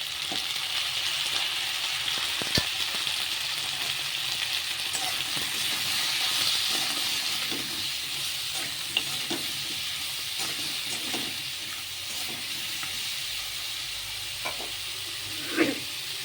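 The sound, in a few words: vegetables frying and sizzling in a pan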